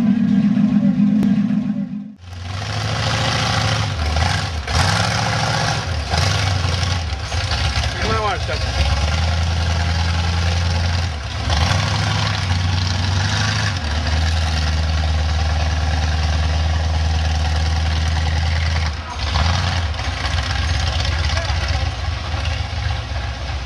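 A car engine starts, then idles with a steady low rumble and is revved several times in rising and falling surges. It is loud and close, and people talk and chatter over it.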